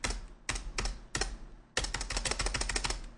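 Fingers tap a computer keyboard in a few separate clicks, then break into a fast, steady run of close typing keystrokes with no voice.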